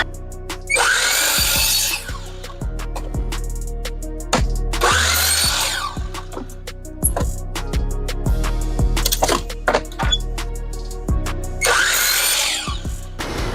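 A power saw cuts MDF boards to size in a workshop: three loud bursts of cutting with the motor running between them, plus scattered clicks and knocks as pieces are handled.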